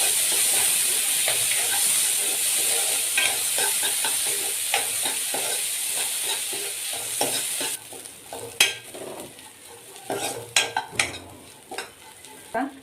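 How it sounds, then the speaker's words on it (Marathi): Dal roasting in a little oil in a pan for Maharashtrian katachi amti, a steady loud sizzle and hiss with repeated scraping stirs, the frying dying down partway through while the stirring clatter becomes sharper and more spaced. "थोडंसं तेल टाकायचं आणि छान परतवून घ्यायचं आहे"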